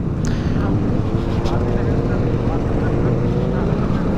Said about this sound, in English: The ride is started and look at the bikes.